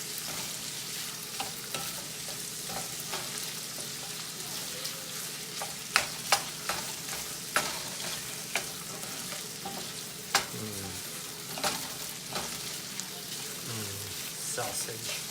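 Italian sweet sausage fries in a cast iron pan with a soft, steady sizzle, broken by occasional sharp clicks and scrapes of stirring. A voice talks quietly underneath at times.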